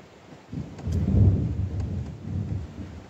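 Thunder rolls during an evening storm over an outdoor construction site, a low rumble swelling and fading over steady rain hiss, with no voices.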